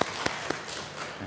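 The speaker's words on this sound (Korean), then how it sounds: "하나님께 영광의 박수 올려드리겠습니다." A church congregation at a Sunday worship service claps together, a brief burst of applause that starts sharply and fades within a moment.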